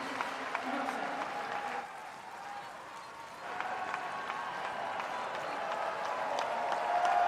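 Spectators at the 2025 US Open tennis tournament applaud in the stadium, a broad wash of clapping that dips briefly midway and then swells again, with a crowd murmur underneath.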